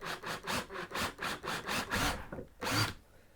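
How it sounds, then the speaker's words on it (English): A power drill bores pilot holes for screws into a model railway backboard, running in a steady train of about eight short, loud, rhythmic grinding pulses, then a gap and one final burst. "I'm going to get my drill bit and make some pilot holes for the screws to go in"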